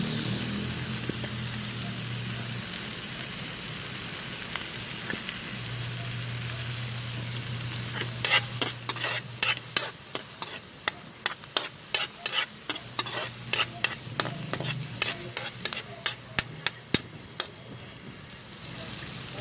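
Garlic and onion fry in margarine in a pan with a steady, hissing sizzle, joined midway by a rapid run of close scraping and tapping stir strokes.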